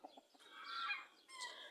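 A hen clucks and cackles up close in a short, rising burst of calls with a brief pause before a final squawk, loud and alone with no talk.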